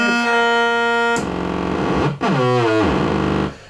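A buzzy square-wave synthesizer tone with effects holds, then drops and bends through distorted, warbling pitch sweeps before cutting off.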